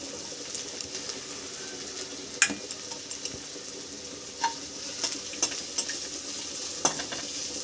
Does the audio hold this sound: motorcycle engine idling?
no